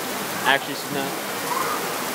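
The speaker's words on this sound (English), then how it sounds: "It's just obliterating rain here right now." Extremely heavy rain pours at Kings Dominion amusement park, a loud, constant hiss running beneath a person talking in the foreground.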